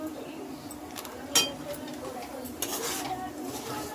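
Garam masala being stirred in a cooking pot: quiet scraping with a sharp metallic clink early on and light utensil taps, over a faint low sizzle, with a voice faintly present.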